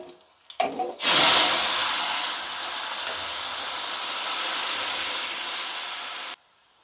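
A loud hissing sizzle erupts as a wet tomato mixture hits a hot pan, holding steady for several seconds before cutting off abruptly.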